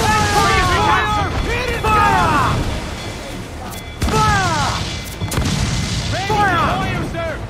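Ship cannons from Assassin's Creed IV: Black Flag boom in a naval battle. Several heavy blasts come in uneven bursts under shouting crew voices, with rumbling decay between volleys.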